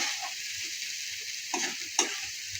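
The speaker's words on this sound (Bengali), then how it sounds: "খুব সুন্দর করে মশলাটা লাল করে ভাজা হয়ে গেছে," Spice masala for bata fish frying in a pan, a steady soft sizzle with faint stirring scrapes and two brief louder clicks near the end, close and quiet with no voices.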